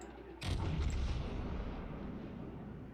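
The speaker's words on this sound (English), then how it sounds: "Eat battleship rounds." A heavy battleship gun round fires in a video game with one sudden deep boom, then a long rumbling roar that slowly fades, loud and close, with no talking.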